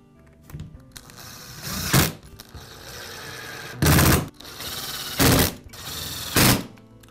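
Screws being driven into the housing of a Milwaukee electric drill during a brush card repair: steady whirring of a power driver with several loud, brief bursts as each screw seats, close and alone.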